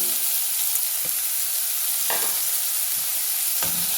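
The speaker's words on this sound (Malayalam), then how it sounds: "ചെറിയ ഉള്ളി ചെറുള്ളി നമുക്ക് ഇട്ട് കൊടുക്കാം" Small onions fry in a pan with fenugreek, making a loud, continuous hiss and crackle of hot oil, with a few faint stirring knocks.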